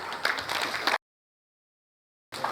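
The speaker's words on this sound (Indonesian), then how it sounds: "Tepuk tangan untuk wisuda terbaik kita" Dense applause from a crowd at a Quran school graduation, steady and moderately loud, cuts off abruptly, then resumes after a silent gap.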